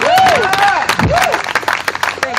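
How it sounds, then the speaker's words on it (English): An audience at a live event in Columbus, Ohio applauds loudly and close by, dense clapping mixed with whoops and cheering shouts across the whole short burst. "Would you give her another applause?"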